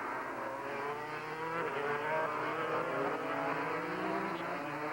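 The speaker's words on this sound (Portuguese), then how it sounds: "Veja Michael Durham passando aí" Racing motorcycles pass on a track in a MotoGP race, their engines whining steadily at high revs from some distance, with the pitch rising and falling as they go by.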